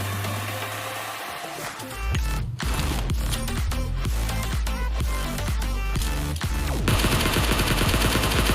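Rapid bursts of gunfire in the mobile battle royale game PUBG Mobile in the Pochinki town area: loud, dense automatic shots in quick repeated volleys over a constant game background.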